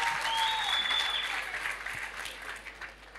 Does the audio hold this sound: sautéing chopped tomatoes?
no